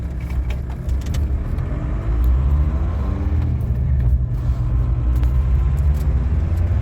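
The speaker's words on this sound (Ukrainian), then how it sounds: "женемо три тачки, як Гриша каже, три автомобілі для Збройних сил України" Cars rumble loudly and pull away close by, their engines a steady low drone with no talking.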